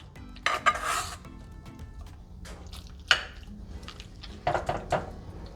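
A spoon spreads mac and cheese mixture across the bottom of an oven-safe baking dish for a taco bake, giving several close clattering scrapes and clinks of utensil on dish with quieter gaps between.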